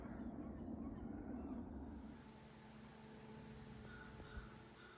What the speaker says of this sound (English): Crows and crickets.